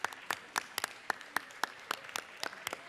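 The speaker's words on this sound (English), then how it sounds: "Give them a round of applause." Sparse clapping rings out in the Georgia House chamber as visitors to the Capitol are welcomed, a handful of distinct, fairly evenly spaced claps from a few people against a quiet room.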